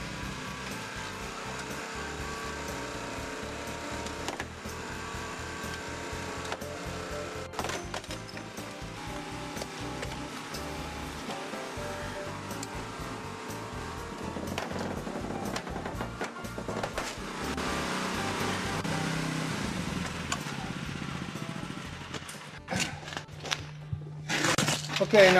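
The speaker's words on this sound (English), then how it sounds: "Remember to wrap the blades completely around the hinge when cutting" A Genesis hydraulic rescue cutter cuts through car door hinges, with a steady power-unit drone under crunching, cracking metal and sharp snaps, while a voice talks intermittently.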